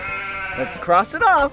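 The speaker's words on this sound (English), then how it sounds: "it's a sheep." Sheep bleating on a farm: a few wavering, voiced bleats in quick succession, close and clear, with a person talking over the start of it.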